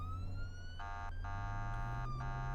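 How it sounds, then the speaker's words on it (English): A steady electronic emergency siren in the video game Flashing Lights wails with rising and falling pitch, joined by short blaring horn blasts, all over a low engine rumble. "Let's get our horn and clear the intersection here."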